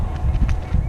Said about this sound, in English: this is them rounding out the cattle on the horses